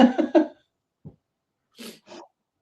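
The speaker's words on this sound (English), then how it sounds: "I'm just coughing and dying in the background here" A few short, rough coughs in quick succession, followed by a couple of fainter breathy hacks after a brief pause.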